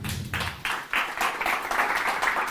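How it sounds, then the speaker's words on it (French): Applause from a WordCamp conference audience greeting the next speaker, a sparse scattering of claps that builds into fuller clapping over a couple of seconds, with a faint voice at the very start. "on l'applaudit s'il vous plaît"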